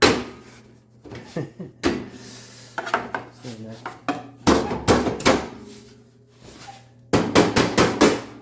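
Several bursts of sharp, quick metallic taps from a small hammer on wires, separated by pauses, fairly close and loud.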